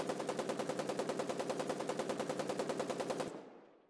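Full-auto bursts from an Alto Storm Rifle in a video game shooting range, a rapid, even stream of sharp shots for about three seconds, then stopping abruptly into a short fading tail.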